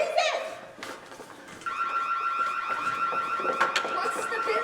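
An alarm rings with a sustained high tone that starts after a second or so and holds steadily to the end. Fairly close, with voices and shouting in a stage performance of Macbeth around it.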